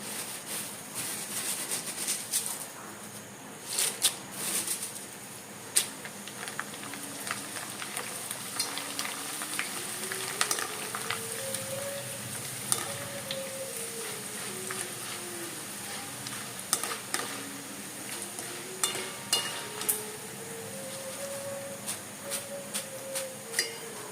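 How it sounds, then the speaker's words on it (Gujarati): Corn poha, flattened corn flakes, frying in hot oil with a steady soft sizzle and scattered crackles and clicks throughout; a faint melodic flute line plays in the background. "હવે મકાઈના પૌવા બાકી છે ને એ તળી લઈએ."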